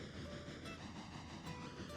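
A train in a modded railroad video game creeps in reverse at low speed, giving a steady, dense rumble with faint rhythmic clickety-clack from the wagons, continuous and close throughout with no talk.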